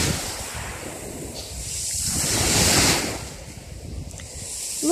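Surf washing in and out on a beach at Kemer, a broad rushing swell that builds, peaks and recedes, with steady wind noise over the microphone.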